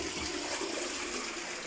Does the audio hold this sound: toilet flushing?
yes